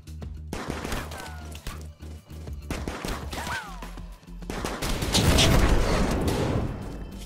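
Rapid gunfire from a legendary revolver in the colony sim game Rimworld, a quick burst of sharp shots followed by a heavy rolling explosion, layered over game effects and music.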